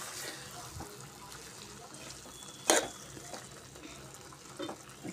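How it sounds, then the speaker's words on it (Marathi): Water is added a little at a time to a jackfruit vegetable cooking in a pan over a low flame. A steady, soft hiss of liquid and simmering runs throughout, with one sharp clink partway through and no talk. "थोडंसं पाणी टाकायचं, पाणी थोडं थोडं घालतच जा।"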